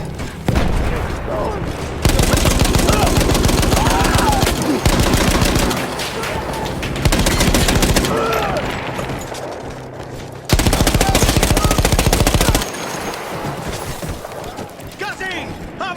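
Machine gun fire in Battlefield 1 on PS5, a mounted gun in a World War I Italian-front battle, loud sustained automatic bursts with brief pauses, heavy and close, over a continuous battle din with some voices.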